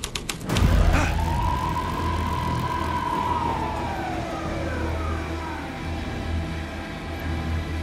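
A police car siren in the video game Alan Wake 2 wails after a sharp opening burst, rising and falling in a long sweep over a low rumble, loud and close.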